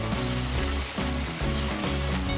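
Onions and tomatoes for tawa pulao sizzle in a pan, a steady bright frying hiss beneath a strong, repeating low rhythmic hum from a nearby appliance.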